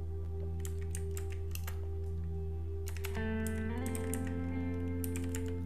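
Clusters of crisp keystrokes on a computer keyboard, close and clear, over a steady tonal electrical hum that shifts partway through.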